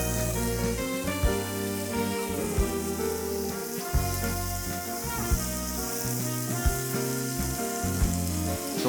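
Carne asada steaks sizzle steadily on a hot cooking surface, a continuous close hiss running under loud rhythmic music that stays on throughout.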